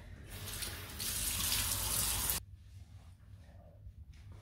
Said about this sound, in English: I'm gonna go ahead and rinse my skin, pat it dry